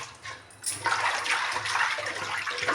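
Water running and splashing while a cooking vessel is washed in a kitchen, a steady hissing rinse with scrubbing and sloshing that picks up after a brief pause and continues at moderate level.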